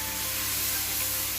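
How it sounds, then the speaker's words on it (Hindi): Ginger garlic paste and green chillies frying in hot oil after browned onions, a steady loud sizzle and hiss holding evenly throughout with no talking. "अदरक लहसुन का पेस्ट और सब्ज़ मिर्चें डाल के हमने थोड़ा सा इसको भूनना है"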